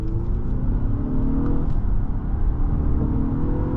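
Inside a 2020 Acura RLX Sport Hybrid SH-AWD with a 7-speed dual clutch, the car accelerates under a loud, steady low engine drone and road rumble, its whirring pitch climbing smoothly.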